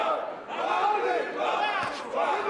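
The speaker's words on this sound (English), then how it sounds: "The crowd trying to urge Isroil Madrimov on" Boxing arena crowd urging on Uzbek fighter Isroil Madrimov in his bout against Luis David Salazar, a sustained roar of many voices swelling and chanting together, loud and continuous throughout.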